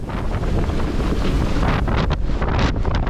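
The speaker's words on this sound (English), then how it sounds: "with weather and waves continuously increasing towards stormy conditions" Stormy wind roars and buffets the microphone aboard a sailboat 32 nautical miles off the coast of Norway, with heavy waves surging beneath, loud and continuous.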